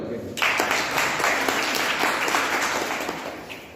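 A room full of people breaks into steady applause that starts abruptly and holds for a few seconds before slowly tapering off.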